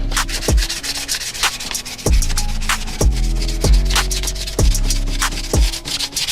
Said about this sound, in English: sanded this one down with a 220 sandpaper right here